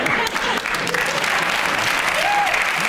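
Studio audience on a comedy panel show applauding steadily and loudly throughout, a dense continuous clatter of many hands with faint crowd noise beneath.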